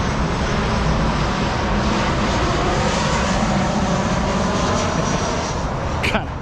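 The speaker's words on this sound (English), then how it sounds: "look at this plane" A loud Southwest passenger jet roars continuously overhead on a rainy, low-cloud day, a broad steady rumble throughout, with a brief click near the end.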